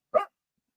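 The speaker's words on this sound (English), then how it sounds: "Y'all hear my dog?" A pet dog gives one short, sharp bark, moderately loud and alone, followed by silence.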